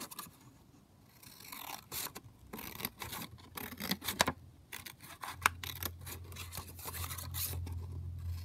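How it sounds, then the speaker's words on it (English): Scissors snip and scrape around a paper pocket in a series of close, quiet cuts and rustles, with a low steady hum entering partway through. "So just cut around your pocket."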